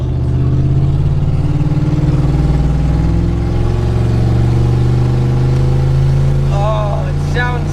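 A drift truck's engine at Shannonville, running rough and badly tuned, drones loud and steady at close range, with a slight rise in revs; a voice exclaims briefly near the end.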